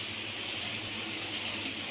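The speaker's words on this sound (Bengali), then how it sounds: "এবার আমি অল্প একটু জল দিয়ে দেব।" Water poured from a container into a pan of cooking poppy seed paste, a steady continuous hiss and splash, close and fairly loud with no talking.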